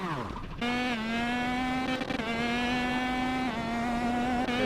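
A go-kart engine in the Kartkraft sim racing game revs in a high, steady buzzing whine with small pitch wobbles as the kart drifts, loud and close, after a brief rising rev at the start.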